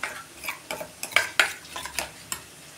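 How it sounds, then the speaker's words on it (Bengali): Onions being stirred in a frying pan for a home-style Bengali dahi bhindi (okra in yogurt), with close, irregular scrapes and clinks of a spatula over a soft, low sizzle. "পেঁয়াজটা আমার ভাজা হয়ে গেছে"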